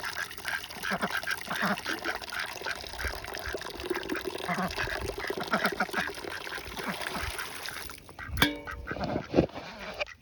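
Ducks quack on partly frozen water at a ranch in winter, a busy chorus of calls with louder close quacks near the end, and faint splashing.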